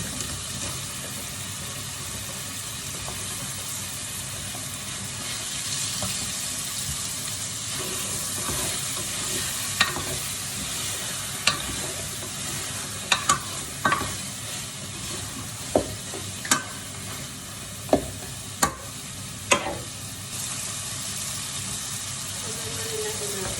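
Bitter gourd (ampalaya) stir-fried with cooked tomatoes for pinakbet, a steady sizzle and frying hiss in the pan with a run of sharp clinks and scrapes from a utensil stirring in the second half.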